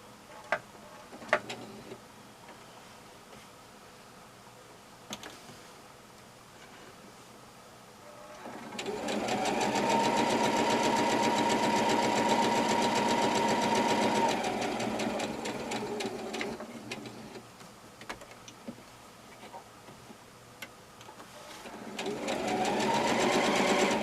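A sewing machine stitches a patch pocket in a steady, rapid whirring run of about six seconds after some quiet handling, then starts up again for another burst near the end.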